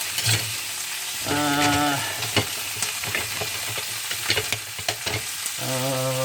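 Ground meat for chili with beans sears in a hot pan, giving a loud, continuous sizzle broken by scraping and stirring from a spatula, with a few squeaky tonal scrapes. No speech.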